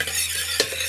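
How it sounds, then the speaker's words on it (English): Red and green chili sweating in a pan over low heat makes a soft, continuous sizzle, with a quick stir or utensil scrape in the middle. "we just want to sweat this down now on a nice low heat"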